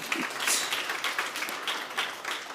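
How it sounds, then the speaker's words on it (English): A small audience at a food packaging science talk claps to welcome the speaker, a brief patter of separate hand claps with an uneven rhythm, close and fairly light. "A warm round of applause for Maricel."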